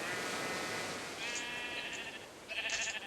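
Sheep bleating, a few wavering, nasal calls close by, the last one louder, with no talking.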